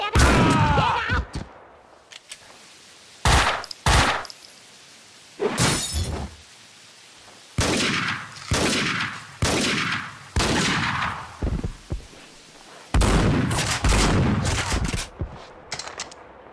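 Video game gunfire from Max Payne 2: repeated loud, close bursts of shots and shattering impacts in uneven clusters, with short quiet gaps between volleys.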